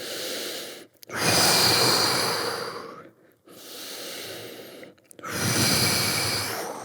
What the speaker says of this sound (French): Inspirez, relâchez.